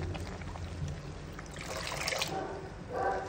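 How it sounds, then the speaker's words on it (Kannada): Soaked drumstick leaves tumble into a pot of lentils that has just come to a boil, giving a close, wet pouring and splashing rush that swells midway and again near the end. "ಈಗ ನೋಡಿ, ನೆನೆ ಹಾಕೊಂಡಿರೋಂಥ ಸೊಪ್ಪನ್ನ ನುಗ್ಗೆ ಸೊಪ್ಪನ್ನ ಹಾಕ್ತಾಯಿದ್ದೀನಿ"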